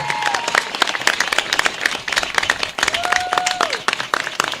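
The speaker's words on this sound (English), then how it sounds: "Once again, a round of applause for Mr." Applause from an audience at a tribute ceremony for an award recipient, a dense steady clatter of many hands lasting throughout, with a voice briefly heard over it.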